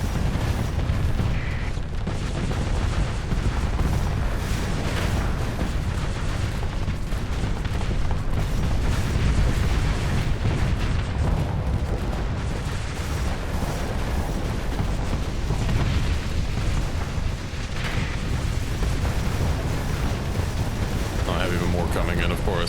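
Giga Cannons firing in a video game battle, a dense continuous barrage of loud booming blasts and explosions with someone talking underneath.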